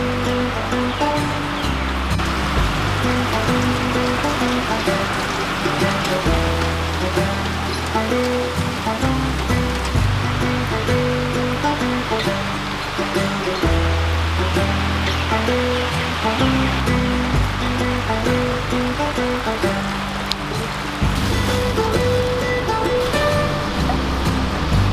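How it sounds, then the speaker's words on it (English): Heavy rain and rushing running water make a loud, dense, continuous roar throughout, close and unbroken. "It's a lot of rain,"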